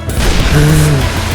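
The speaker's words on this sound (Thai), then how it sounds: "ระเบิดหมดอะ" A deep, booming explosion in Far Cry 4 rumbles loudly, a thick low blast that sustains and slowly decays, with a brief tonal hum in the middle.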